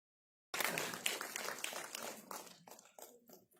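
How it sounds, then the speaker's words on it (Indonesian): A press conference crowd breaks into applause for a cast member, opening abruptly and then thinning into scattered claps that fade out. "Tepuk tangan untuk Rahel."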